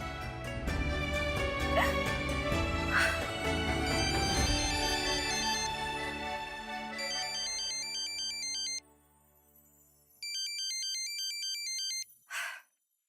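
A phone ringtone plays loudly and close over a busy music bed. Then a repeating electronic ring pattern sounds twice, with a short quiet gap between the rings, and a brief knock-like sound follows at the end.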